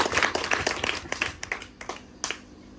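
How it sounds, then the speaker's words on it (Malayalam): A small audience at a Christmas celebration claps for the priest, a brief ragged patter of hand claps that thins out and fades, with a faint voice in the background. "എല്ലാവരും അച്ഛന് നല്ലൊരു കയ്യടി"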